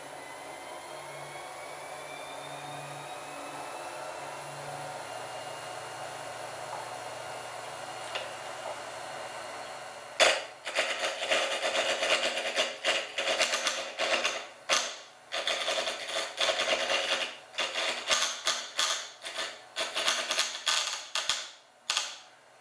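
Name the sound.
Rikon variable speed wood lathe running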